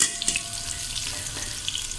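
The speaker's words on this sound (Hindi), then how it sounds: "अब इसके अंदर मैं तकरीबन ये घी, थोड़ा सा ऑयल गर्म हो जाएगा तो मैं इसके अंदर 2 प्याज डाल दूँगी, स्लाइस कटे हुए।" Sliced onions frying in hot ghee and a little oil for beef haleem, producing a continuous crackling sizzle with scattered sharp pops and spatters, close and moderately loud, without speech.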